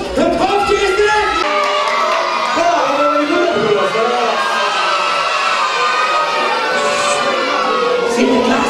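A crowd of children and adults cheers, shouts and whoops as Sinterklaas returns at an outdoor Sinterklaas arrival event in Barthel. The noise stays loud and continuous throughout.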